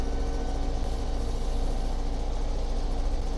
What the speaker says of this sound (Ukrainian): Ось знайомий фермер культивує далечині на масей Фергусоні.